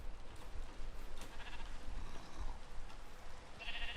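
Sheep bleating in a Minecraft-style video game, a few soft bleats over a low, busy background rumble with faint game sounds, no speech heard.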